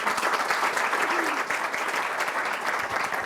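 An audience at a university gathering on Civil War quilts applauds steadily, a dense wash of clapping from a sizable crowd that holds at an even level throughout.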